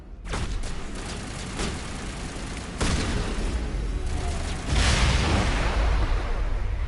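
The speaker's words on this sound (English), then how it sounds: "Oh, it was a big explosion back there." Explosions and gunfire in the Mass Effect video game: a dense run of bursts and booms, with sharp blasts and a bigger rolling explosion near the end, all fairly close and loud.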